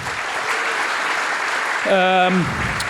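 Applause for a startup founder at a pitch event at LAUNCH Festival in Sydney, a steady wash of audience clapping with a voice sounding over it near the end.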